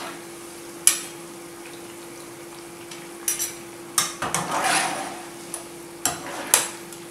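Pumpkin pieces frying in oil and being lifted out, heard as a faint sizzle under scattered utensil clinks and scrapes against the pan, with a steady low hum throughout.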